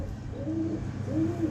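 Two drawn-out pigeon coos, each a soft, low, rolling phrase, sounding close and clear in a quiet setting in Pakistan, with no talking.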